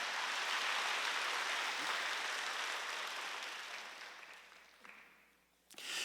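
Broad, steady applause from a church congregation during a Wednesday worship service, fairly faint and distant, thinning out toward the end before a brief burst at the close.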